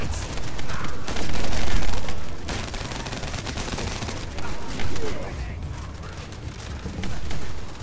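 Dense, continuous weapon fire from a shooter game, The First Descendant, packed with rapid shots and booming impacts through a high-difficulty dungeon fight, loud throughout with surges of heavier bursts.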